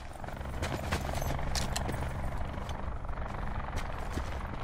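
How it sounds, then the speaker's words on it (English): A video game helicopter's rotor beats steadily close overhead, a loud continuous chopping roar with scattered sharp bursts of gunfire layered on top. "Where's the helicopter going?"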